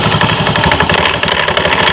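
A Honda automatic scooter engine revs hard, with rough noise from the CVT belt area. The running is loud, close and steady, with a fast pulsing beat and no talking.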